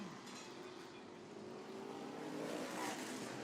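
Modified race cars roar around Star Speedway, a continuous blur of engine noise that swells louder toward the end as the pack comes closer.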